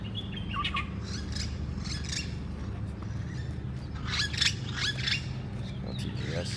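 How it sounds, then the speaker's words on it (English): A yellow-crowned gonolek calls in Bamako in short bursts of bright, sharp notes over a low, steady rumble of background noise, with a second cluster of calls following a brief lull. "That sounds like a yellow-crowned gonolek."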